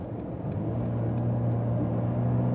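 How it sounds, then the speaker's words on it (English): Steady engine drone inside a 2016/2017 Mercedes GLC Coupé 250 with a 4-cylinder engine, accelerating hard from 80 km/h on the motorway, a continuous low hum with road noise and no talk. "Also reasonable sound from this 4-cylinder, so you have enough power also at the motorway."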